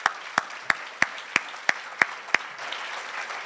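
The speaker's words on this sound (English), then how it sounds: "Another round of applause for that." Claps ring out at a community foundation giving celebration, a slow run of about eight evenly spaced, sharp hand claps standing out above a soft, scattered wash of audience clapping that carries on quietly after them.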